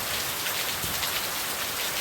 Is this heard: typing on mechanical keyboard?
no